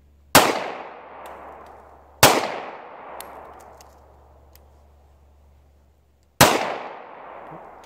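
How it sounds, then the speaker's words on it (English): A German P08 Luger pistol fires three loud, sharp shots with ringing decays, spaced irregularly over several seconds, close by and heard alone. "let's shoot the Luger. I have a full 7-round magazine, so I'm gonna shoot this in the traditional style"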